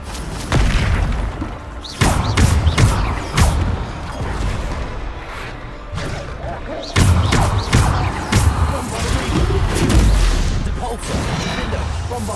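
Bombarda spell explosions in a Harry Potter video game make repeated heavy booms and thuds at irregular intervals, loud and close, over a continuous bed of game action.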